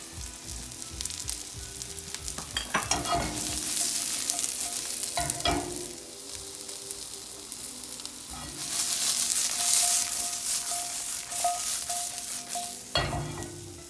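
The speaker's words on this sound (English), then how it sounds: "the mushrooms have been sauteing for about 3 minutes" Mushrooms sizzle in extra virgin olive oil in a hot pan, a steady crackling fry with periodic louder scrapes and clatters of stirring, close by and without speech.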